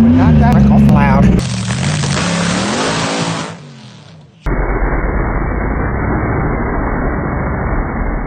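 A nitro drag car runs at a track, a deafening engine blast that revs hard, then cuts into a harsh, sustained crackling roar, with talk over the first moments.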